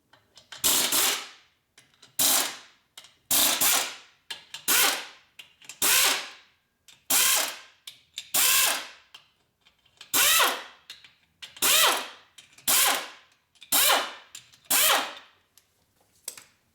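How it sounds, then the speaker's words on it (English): A tool works on the transmission of a 2004 Harley-Davidson FLHT Twin Cam touring bike, giving about a dozen sharp, evenly spaced ratcheting bursts, close and clear with brief pauses between them. "Of course I'm going to use my power tool"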